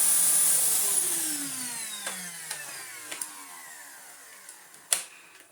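A restored Bissell Lift-Off upright vacuum cleaner motor winds down after being switched off, its whine sliding lower and fading, with scattered clicks and knocks of handling and one sharper bump near the end.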